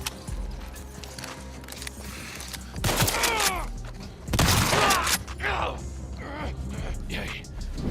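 Pump shotgun blasts from The Last of Us, two loud booming shots with rattling pump action and echoing tails between them, over low game ambience.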